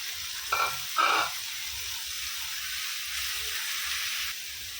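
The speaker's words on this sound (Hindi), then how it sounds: "टमाटर डालेंगे और अच्छे से भुनेंगे उसको" Chopped tomatoes fry on a hot tawa for market-style tawa chicken, giving a steady close sizzle with two brief louder bursts near the start as the food is stirred.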